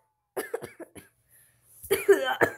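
A person coughs several times in short, close bursts, then a brief pause and a harsher, longer run of coughing.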